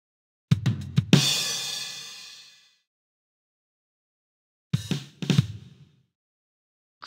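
Drum set in the Lamb Chop Loves Music PC game: a few sharp hits and a crash ringing out, then silence, then another short burst of hits and cymbal.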